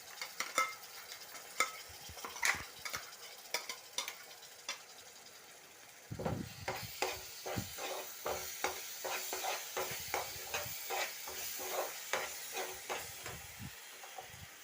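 Prawn masala curry cooks in a pan with a steady hissing sizzle, broken by repeated scraping stirs in an uneven rhythm that grow busier and louder partway through.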